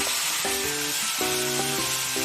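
Chicken pieces fry in a pan and are stirred with a dry-roasted, ground spice mix. A constant close sizzle runs throughout, with scraping, tonal stirring sounds coming through in short bursts.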